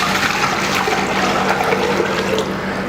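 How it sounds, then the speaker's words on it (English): Water pours steadily into a cooking pot for rice, a continuous close rushing splash with no break and no talking. "In goes the water."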